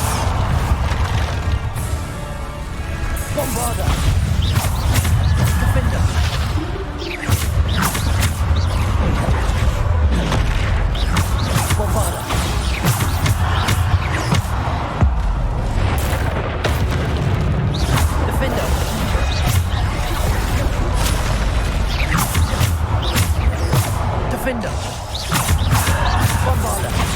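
Bombarda spell explosions in Hogwarts Legacy, repeated heavy booms and crashes throughout a loud, dense combat mix, with speech and game effects layered in.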